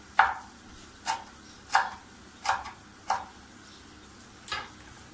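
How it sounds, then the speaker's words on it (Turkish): A knife chops fresh parsley on a cutting board in six distinct, close thuds spaced roughly a second apart, each a sharp tap with a slight crunch, in a quiet kitchen. "hiç sevmeyi, yapmayı sevmediğim şeylerden birisi de şu maydanozu doğramaktır."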